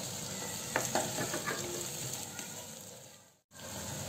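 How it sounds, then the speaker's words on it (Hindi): Two chopped onions frying in a pan for Mumbai-style dabba pulao, a dense continuous sizzle with occasional spoon clinks and stirring scrapes, briefly cutting out near the end before resuming. "प्याज हमारा भुनना शुरू हो गया है।"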